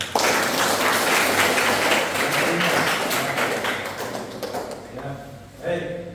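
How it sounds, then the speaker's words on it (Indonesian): An audience at a nursing lecture claps together in a dense burst that gradually thins out, and a voice resumes speaking as the applause fades. "Baik, tepuk tangan dulu."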